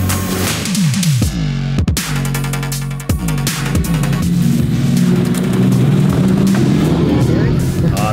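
A Mercedes-AMG hybrid V8 car drives on the road, its engine loud and close, with sharp revving bursts and gear changes early on, then settling into a steady, throaty drone.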